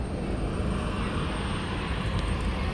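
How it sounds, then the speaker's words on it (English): A JetBlue airliner doing a touch-and-go makes a steady, broad engine roar that stays loud and constant throughout, with no voices heard. "a JetBlue just touched and go."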